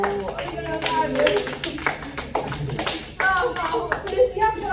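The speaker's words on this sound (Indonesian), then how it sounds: "Berikan aplaus untuk kelompok 2." Students in a classroom clap for a group, a few seconds of scattered hand claps mixed with voices talking over them.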